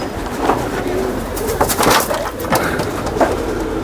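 A Sialkoti pigeon coos in low soft repeated pulses close by, amid rustling and faint wingbeat-like taps.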